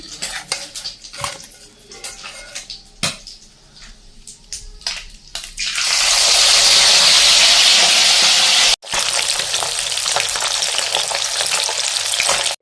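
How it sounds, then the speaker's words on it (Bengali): Small fish deep-fry in hot oil, first a few clinks and scrapes of utensils against the pan, then a loud, dense, continuous sizzling roar close up that breaks off briefly before resuming. "এখন আমি গুঁড়ো মাছগুলো একটু ডুবন্ত তেলে ভেজে নিচ্ছি"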